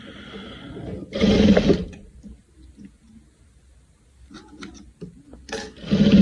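A sewing machine stitches over gold ribbon in two loud, close bursts of rapid whirring, about a second each, separated by quiet handling sounds and faint clicks.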